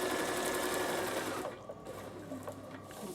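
A Bernina sewing machine stitches a lunch cooler bag at close range, a fast steady mechanical whir that eases off and slows to a few softer bursts.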